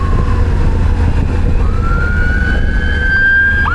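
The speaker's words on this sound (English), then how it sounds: "ambulance behind." An ambulance siren passing nearby, a loud sustained wail rising and holding in pitch over a low traffic rumble, with no talking.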